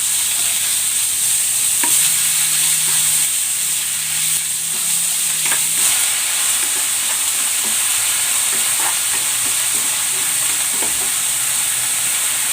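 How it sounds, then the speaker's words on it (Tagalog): Ground pork and onion sizzle and fry steadily in a hot pan with occasional stirring scrapes, loud and close for the whole stretch with no talk over it. "At ang sibuyas. Igigisa ko na rin itong ground pork."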